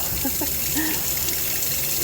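Water flushing steadily through orchid pots, a continuous close gush and trickle that fills the whole moment without pause.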